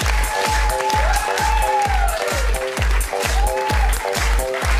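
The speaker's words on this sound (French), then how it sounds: "faire un tonnerre d'applaudissements" Studio audience on a French television talk show claps for a Mister France winner while a pounding music beat thumps in a regular rhythm beneath the applause, loud and continuous throughout.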